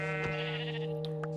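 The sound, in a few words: sheep bleating in Minecraft video game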